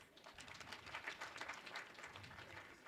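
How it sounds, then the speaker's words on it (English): Audience applause after a speech at a Namibian repatriation event, a steady wash of many hands clapping at moderate distance that holds through the whole stretch without voices. "Can we give him another round of applause, please?"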